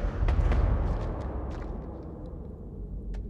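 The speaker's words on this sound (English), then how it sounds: "That's gunfire." Gunfire in the PS5 game House of Ashes, rumbling low and muffled as if far off below ground, with a few faint sharp cracks scattered over a continuous dull roar.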